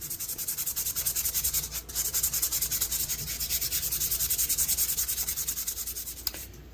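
Rhythmic back-and-forth rubbing of fine-grit sandpaper on an old Jim Dandy knife blade, close and steady with even strokes, briefly pausing once, with no talking.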